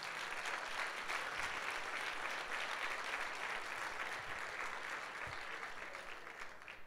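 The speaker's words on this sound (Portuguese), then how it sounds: "Então dá um aplauso aí a Jesus." Congregation applauding during a church service, a steady, even wash of clapping from a large crowd, fairly soft and distant throughout.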